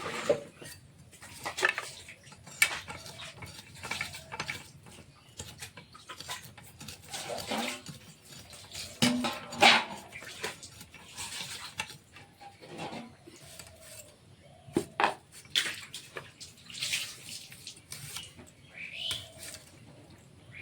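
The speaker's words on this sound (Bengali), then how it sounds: "চিংড়ি মাছটা বাছা হয়ে গেছে এখন ধুয়ে নেব" Cleaned prawns being rinsed in water, with wet rubbing, swishing and light clinks of a bowl or pot repeating unevenly up close. No voice is heard.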